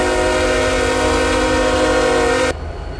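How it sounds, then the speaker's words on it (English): ES44AC diesel locomotive horn in the Roblox RO-Scale Sandbox game, one long loud sustained chord blast that cuts off abruptly, leaving a low engine rumble. "Turn the speakers up and you hear this train horn noise."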